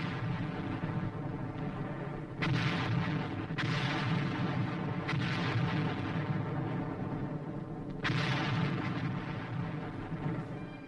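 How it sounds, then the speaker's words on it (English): Booming blasts from 155 mm artillery guns firing in the Korean War, heavy reports at irregular intervals over a constant rumbling background in an old newsreel-style recording. "Our 155's blast evacuated Weijianbu."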